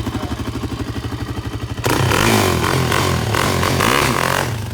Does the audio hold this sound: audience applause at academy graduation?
no